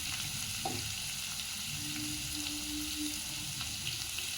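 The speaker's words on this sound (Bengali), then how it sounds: "আলুগুলো একটু হালকা ভেজে নেব, এটা আলাদা ভাবে।" Potatoes fry in oil with salt and turmeric, making a steady, close crackling sizzle with faint stirring scrapes.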